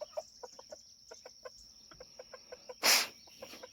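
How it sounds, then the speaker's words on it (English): Chickens on the far side of a fence cluck in soft, quick repeated bursts, with one louder squawk partway through. "Buddy, there's a fence in between you and these chickens."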